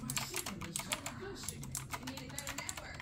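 Rapid, close typing on a Razer BlackWidow V3 mechanical keyboard, with crisp, clicky keystrokes in quick irregular bursts and a voice murmuring underneath.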